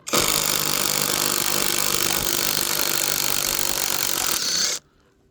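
An impact driver fitted with a square-drive socket adapter runs loud and continuous for several seconds while unscrewing into an old spruce stump, then cuts off abruptly into near silence.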